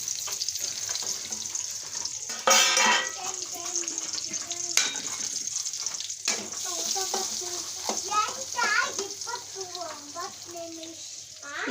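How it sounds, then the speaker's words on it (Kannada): Garlic fries in hot oil in a home kitchen, a bright continuous sizzle with a sharp crackling burst near the start and light stirring. Someone talks throughout over it. "ಬೆಳ್ಳುಳ್ಳಿ ಎಣ್ಣೆ ಒಳಗೆ ಫ್ರೈ ಮಾಡ್ಕೊಂಡ್ರಿ"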